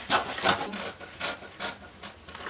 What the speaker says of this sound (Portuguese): Agora é só cortar.